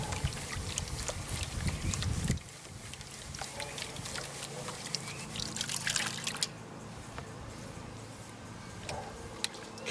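Gold pan swirling black sand in water, close sloshing and trickling with gritty washing that drops off sharply after a couple of seconds, then quieter dribbles and drips.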